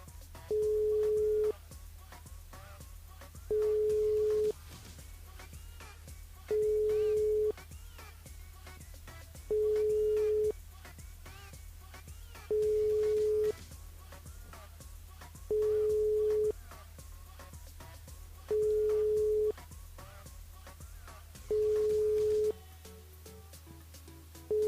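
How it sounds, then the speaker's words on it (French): A telephone ringing tone repeats steadily, about eight evenly spaced single beeps roughly three seconds apart, heard through a phone line with a faint hum beneath. "Ça sonne."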